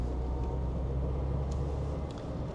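A 1990 Mercedes W124 with a 2.3 engine pulls in second gear at low revs, giving a steady, deep interior drone and road rumble with no one talking.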